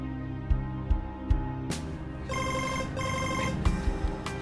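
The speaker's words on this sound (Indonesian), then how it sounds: "Ada telepon." A telephone rings with a steady electronic tone, followed by a louder, brighter repeating ring pattern with sharp clicks, close and clear and without talking.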